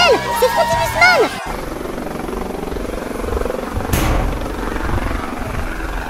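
Helicopter flying overhead at an outdoor stunt event with a ramp, its broad rotor and engine roar steady and fairly loud for several seconds after a brief burst of music at the start.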